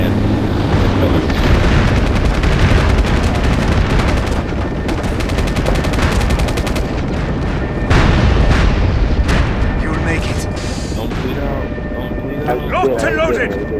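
Artillery shells and bomber strikes in the PlayStation 3 shooter MAG pound away in a dense, loud barrage of booms and rattling gunfire running the whole time, with heavier blasts around the middle and a voice briefly cutting through.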